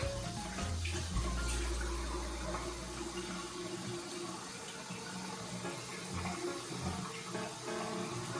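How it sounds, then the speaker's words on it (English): Running tap water splashes steadily into a sink as hands are washed with regular soap, a continuous close hiss and patter with a brief low rush near the start. "I'm just gonna wash my hands with regular soap and water."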